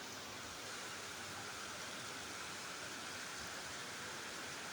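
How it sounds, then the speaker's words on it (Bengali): Heavy rain pours onto a rooftop in a dense, continuous hiss that stays even and loud throughout, with no voices. "কি সুন্দর বৃষ্টি হতেছে, এই যে পানিগুলো পড়তেছে ছাদে।"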